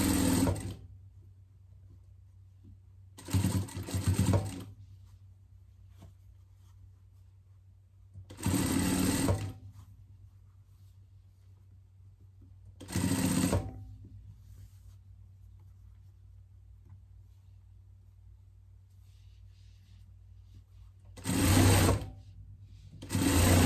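Sewing machine joining two hoods of a jester-style pet costume seam to seam, running in five short bursts of buzzing stitching separated by quiet pauses with faint handling of fabric.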